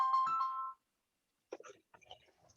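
Phone ringtone signalling an incoming caller, a short electronic melodic tone, then a pause before a brief burst of speech.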